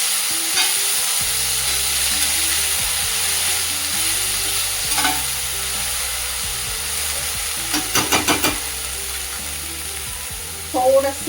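Fresh chopped fenugreek leaves are stirred into steamed peas in a hot pan, giving soft sizzling and hissing with intermittent scraping stir strokes and a few clinks, close up.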